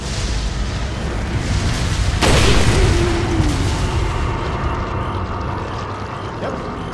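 A shot barrel bursts in Resident Evil 4, one loud close explosion that hits sharply and rolls off into a rumbling tail over steady game background.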